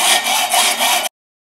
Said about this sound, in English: But this is a standard hacksaw.